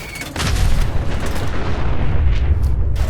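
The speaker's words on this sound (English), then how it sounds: "So as you can imagine, it's a huge blue explosion" A huge blue explosion in Fallout 4's Nuka-World, a deep booming blast that rolls into a long rumbling roar, loud and sustained for several seconds.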